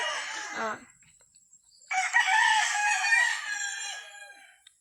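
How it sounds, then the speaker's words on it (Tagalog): A rooster crows loudly and close by in a chicken pen on a poultry farm, after a short burst of clucking from the birds, with quiet gaps around the calls. "At ito naman ay kulungan ng medyo malalaking sisaw na."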